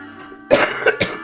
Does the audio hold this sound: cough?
yes